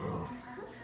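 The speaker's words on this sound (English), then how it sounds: "Please tell me why she's barking at the cooler." A Shih Tzu lets out a single short, faint bark or yip, heard alone and close.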